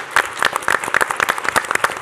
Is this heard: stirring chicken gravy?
no